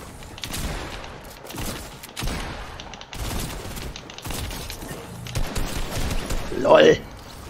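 Video game gunfire in repeated bursts of shots, fairly loud and steady, with people talking excitedly over the shooting and a sharper impact near the end.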